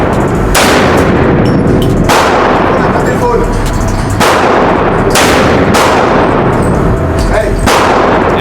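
Loud, close gunshots ring out at a shooting range, roughly eight sharp blasts spaced about a second apart, each with a short echoing decay.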